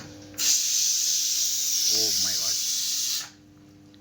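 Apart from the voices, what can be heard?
pressure cooker whistling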